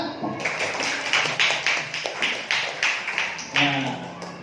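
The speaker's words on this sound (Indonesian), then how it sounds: "Tepuk tangan bersama" A classroom group claps in a rhythmic burst of about a dozen sharp, fairly close claps in uneven succession, with a brief voice at the start.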